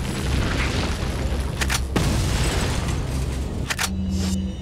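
Explosion in the video game Resident Evil 4, a loud, heavy booming rumble with a few sharp bursts and crackles layered over a sustained roar, close and without talk.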